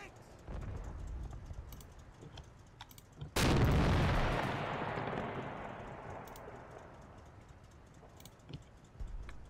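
Tank gun firing in Combat Mission Final Blitzkrieg: one loud, sudden cannon blast that rolls away in a long fading rumble, set among faint clicks and low background battle noise.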